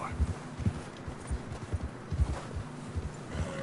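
Soft, muffled hoofbeats of a horse plodding through deep snow in Red Dead Redemption 2, at an uneven walking pace, fairly close, with low rumbling ambience underneath.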